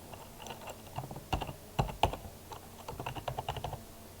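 Fingers type a password on a computer keyboard, with a short run of close, crisp keystrokes in an uneven rhythm and a few louder taps partway through.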